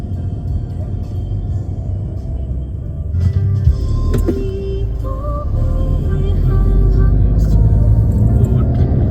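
A car climbs slowly up a steep toll road toward the Geiranger fjord viewpoint in Norway, its engine giving a steady close rumble with a rising whine, and some muffled cabin noise along the way.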